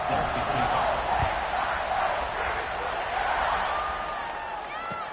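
A football stadium crowd roars in a steady wash of cheering just before kickoff, loud and continuous, with a few whistles and shouts rising near the end.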